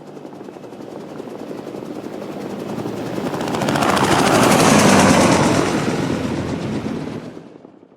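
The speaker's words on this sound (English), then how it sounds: "That heli will just move out of the area and despawn." An ARMA 3 game helicopter moves off with a loud rotor roar that swells to a peak midway, then gradually fades as it pulls away. No one speaks.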